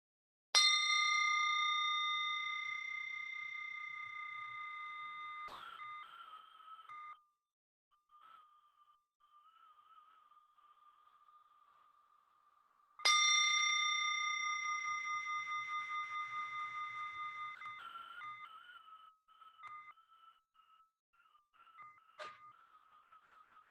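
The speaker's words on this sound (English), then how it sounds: "Focus your mind to this bell sound and follow the sound" A meditation bell is struck twice about twelve seconds apart, each ring a bright metallic strike with a long shimmering ring-out that fades slowly in a quiet room, with faint soft sounds between.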